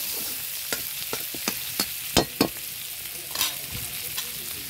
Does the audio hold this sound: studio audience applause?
no